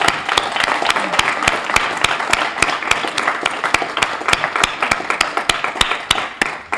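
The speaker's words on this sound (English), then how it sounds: "Let's do another round of applause." A round of audience applause at a regional writers' reading event, steady clapping from a modest crowd with a few sharp individual claps standing out in a regular beat throughout.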